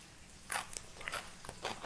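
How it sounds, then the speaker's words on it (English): A knife slices down through a fresh fennel bulb with crisp, crunchy cuts, about five or six quick strokes in an uneven rhythm, close and fairly loud with no talking. "we're just gonna slice it long and down so we get these lovely sort of sheets of fennel"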